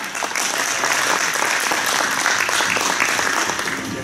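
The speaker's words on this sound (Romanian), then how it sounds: "Vă rog aplauze, mai frumoasă" Dense, steady clapping from a puppet theatre audience fills the whole stretch, sustained and even without pause.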